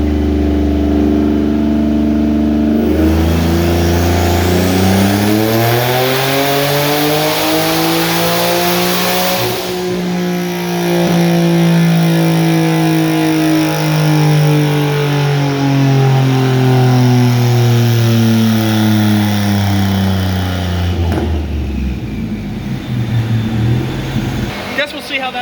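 A turbocharged car with an AMR turbo kit and COMP 6875 oilless turbo revving hard on a dyno, loud engine climbing steadily in pitch through a long pull, holding near the top, then dropping off sharply.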